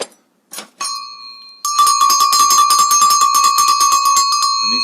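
Tuned bells struck one after another, numbered in sequence, with a few separate clangs and then a long run of rapid, bright ringing strikes that hold a sustained, resonant tone, loud and close.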